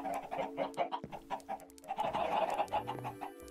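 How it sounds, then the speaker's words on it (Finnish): Chickens in the video game Minecraft cluck repeatedly in a dense overlapping chorus, fairly loud and continuous with game background tones underneath. "Piru vie näitä kanoja on paljon."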